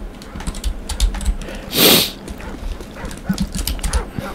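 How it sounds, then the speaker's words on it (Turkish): A dog in the zombie survival mode of the video game Call of Duty Modern Warfare 3 makes short yelps and whimpers. Clicky keyboard typing runs close throughout, and one brief rushing burst sounds in the middle. "Bakın arkadaşlar, köpek geliyor."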